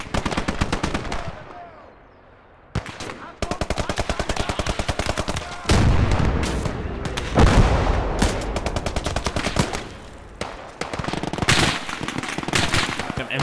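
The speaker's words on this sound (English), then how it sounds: "Got an MG up in that building as well." Machine gun fire in a World War II game set during the Allied invasion of southern France, loud rapid rattling bursts with short pauses and a couple of heavier booms, continuous and close.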